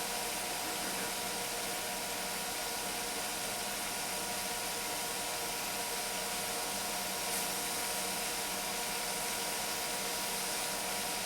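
Continuous, even broadband hiss of steam escaping a pressure cooker, unbroken and steady throughout, fairly close with no voices.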